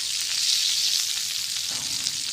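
Pakistani-style fish frying in a pan of oil, an even, dense sizzle with fine crackles up close, a soft low clatter entering near the end, no speech.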